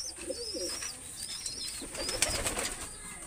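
A golden pigeon of an imported bloodline coos in low repeated murmurs, joined by faint chirps from other birds and a brief flutter of wings, all fairly quiet.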